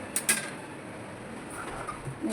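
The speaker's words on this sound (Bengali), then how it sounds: "গ্যাস জ্বালিয়ে নিলাম" A gas stove is lit in a home kitchen for a dhaba-style egg tadka, giving a couple of quick sharp ignition clicks near the start, then a soft steady hiss.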